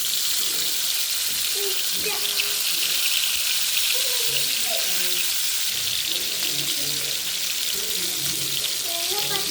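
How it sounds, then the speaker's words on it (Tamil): Fish frying in a pan for a coconut-based nurai dappa kuzhambu, a steady broad sizzling hiss that holds loud and even throughout, with faint voices or tones underneath. "இந்த பக்கம் மீனை பரட்டி போட்டுக்கலாம்."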